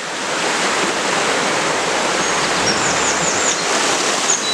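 Steady, close rushing of river water around a person wading in waders along a riverbed in Dyserth, a continuous broadband wash with faint bird chirps high above it.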